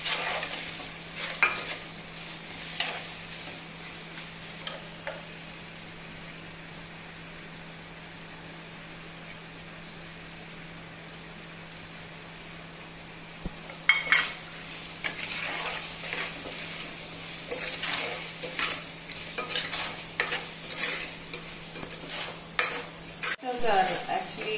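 Tomatoes, turmeric powder and salt being stirred into frying oil with onions, a soft steady sizzle broken by scraping and clinking of a utensil against the pan, growing busier toward the end; faint talk occasionally underneath.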